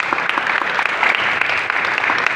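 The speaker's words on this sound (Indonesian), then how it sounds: "Tepuk tangan buat Tuhan." A church congregation applauds, dense, fast clapping from many hands filling the room, steady and lively throughout the short burst.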